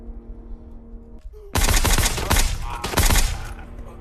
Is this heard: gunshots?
yes